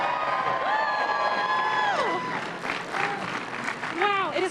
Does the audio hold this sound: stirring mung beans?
no